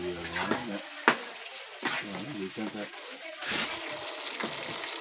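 Fried chicken sizzling and crackling in hot oil in a pan, a steady frying hiss with a few sharp pops, heard close up while people talk over it.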